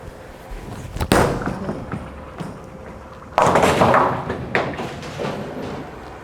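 A bowling ball is thrown down a lane during league play, giving a thud at release and then a loud, rumbling roll that carries on to the end, with no talk.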